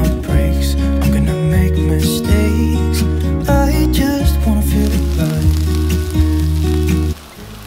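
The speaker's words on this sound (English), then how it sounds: "So let's go ahead and add the peppers and onions to the pan." Peppers, onions and beet burger patties sizzle steadily in a pan, making a loud, close, continuous crackling fry with no voices, then dropping off briefly near the end.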